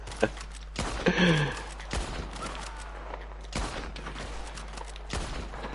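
Gunshots in Red Dead Redemption 2 ring out as several sharp, separate cracks spread over a few seconds, moderately loud, with a voice making sounds between them.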